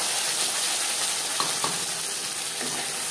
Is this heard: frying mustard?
yes